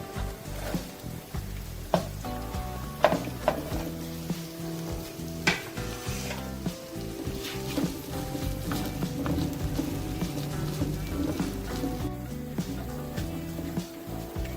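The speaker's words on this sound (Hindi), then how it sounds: "एक से 2 मिनट के लिए फ्राई करेंगे।" Garlic and chopped onion frying in a pan while making chicken chow mein, a steady close sizzle with occasional stirring clinks, under background music and with no talk.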